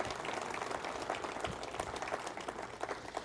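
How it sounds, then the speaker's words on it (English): An audience applauds with dense, sustained clapping that fills the room at steady volume. "would you give them a round of applause"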